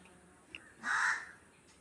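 A single crow caws once, a short harsh call at moderate distance, alone against a quiet outdoor background with a faint earlier chirp.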